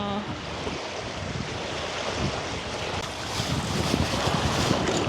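Strong wind gusts across a village pond, a steady broadband roar with buffeting against the microphone and choppy water lapping beneath, growing slightly louder toward the end with no one talking.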